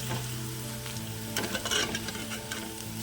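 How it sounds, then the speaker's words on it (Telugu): Okra pieces fry in hot oil in a pan for a tempered curry, a steady close sizzle with a low hum underneath and a brief burst of crackling and stirring midway. "మిగతా బెండకాయలన్నీ కూడా ఇట్లనే వేయించుకుందాం"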